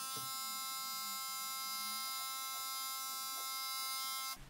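A Karcher Puzzi 8/1 carpet shampooer sprays cleaning product onto a cushion, giving a steady, loud electric pump hum with buzzing harmonics that runs continuously and then cuts off just before the end.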